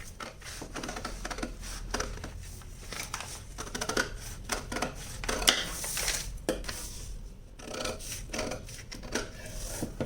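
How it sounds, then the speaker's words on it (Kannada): Scissors cutting through four stacked layers of blouse fabric, a quiet, close run of crisp snipping and rubbing clicks that keeps going steadily. "ಈಗ ನಾನು 4 ಲೇಯರ್ ಇರೋದ್ರಿಂದ ನೀಟಾಗಿ 4 ಲೇಯರು ಸೇರಿಸೇ ಕಟ್ ಮಾಡಿಬಿಡ್ತೀನಿ"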